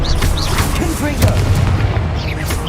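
Confringo explosion spell going off in Hogwarts Legacy during a hard-mode fight, dense booming blasts layered with battle noise and a voice calling out over the top.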